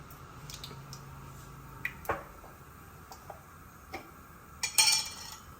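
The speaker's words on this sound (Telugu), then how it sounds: "ఇప్పుడు నూనె వేడైంది ఆవాలు వేద్దాం" Mustard seeds tossed into hot oil for tempering give scattered sharp pops and crackles, sparse at first and then clustering into a brief flurry, close and fairly quiet.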